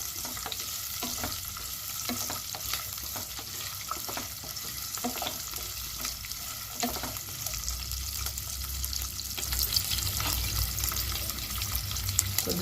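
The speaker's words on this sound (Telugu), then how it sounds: "అవి వేగిన తర్వాత ఉల్లిపాయలు, పచ్చిమిర్చి, ఉల్లిపాయలు వేగాలి." Onions and green chilies fry in a pan for a chicken biryani, a close, steady sizzle with crackling and periodic stirring scrapes, louder toward the end, with no one talking.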